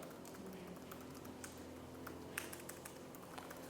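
Fingers typing on a MacBook keyboard, faint quiet key taps pattering steadily in a hushed room.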